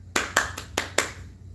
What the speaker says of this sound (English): With my little clap.